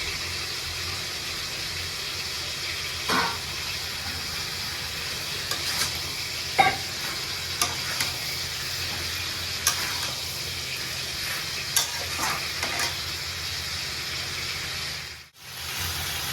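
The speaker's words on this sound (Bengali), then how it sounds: "আমি মাংসের মধ্যে আলুটা দিয়ে দিয়েছি, এবার ভালো করে কষবো" Meat and potatoes with chicken masala stir-fry in a pan, giving a soft steady sizzle with occasional scraping stirs and clinks of a spatula, with no talking.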